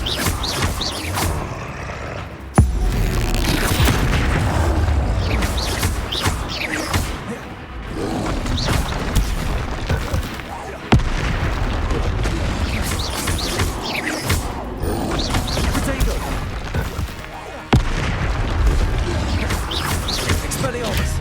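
Hogwarts Legacy spell combat against a troll, with Bombarda blasts landing as sharp crashing thumps amid a dense, continuous wash of whooshes and impacts, several loud hits standing out over constant battle noise and voices.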